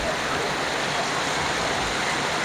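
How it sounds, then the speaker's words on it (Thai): Steady rain falls in a dense, even hiss throughout, loud and close with no breaks. "อยู่กับบรรยากาศ ฝนตกนะครับผม ฝนตกแห้งแห้งนะครับ"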